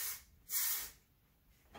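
Texture spray, a clear volume powder, misted onto hair in short hissing bursts, one at the start and a stronger close spray in the middle, with quiet between and no talking.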